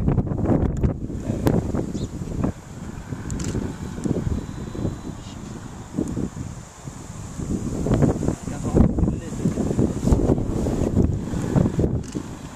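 Wind buffeting a sailboat out on the water, a steady rushing roar with gusty microphone thumps and some splashing, close and continuous throughout.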